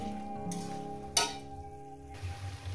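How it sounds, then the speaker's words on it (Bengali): Spices and a rohu fish head sizzle in a pan while being stirred, with a soft steady fry broken by a few scrapes and a sharp clink of a utensil against the metal; no voices. "1 মিনিট একটু কষিয়ে নেবো মশলাটাকে, মাছের সঙ্গে একটু কষিয়ে নেব।"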